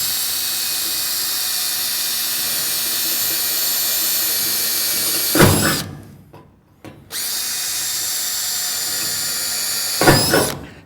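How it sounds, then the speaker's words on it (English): A power drill bores mounting holes into wood for installing a 36-inch wall-mount range hood, whining steadily for about five seconds, cutting out briefly, then running again for a few more seconds, loud and close with no talk. "Okay, so we've drilled the holes."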